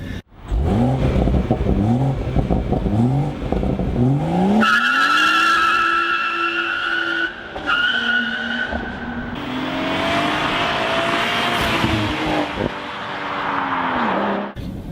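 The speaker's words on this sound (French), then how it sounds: "quand vous accélérez en force, ça a un beau bruit." A BMW M140i accelerates hard, its engine note climbing through several gears in rising sweeps with brief dips at each shift, then a long sustained pull, loud and close with a faint tire squeal.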